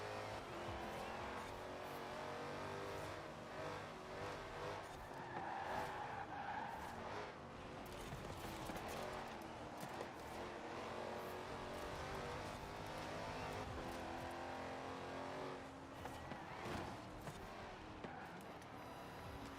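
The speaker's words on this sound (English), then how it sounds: "This car is very hard to start. With this rear wheel drive just ripping through tires." A rear-wheel-drive track car in a racing game spins its tires at the start, with tire squeal and a revving engine over rumbling noise that stays steady for a long stretch, moderately loud and with no voices.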